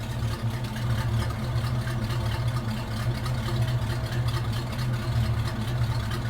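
A hearse engine idles with the choke on just after starting, a steady, low, throbbing rumble that holds even and close throughout with no revving.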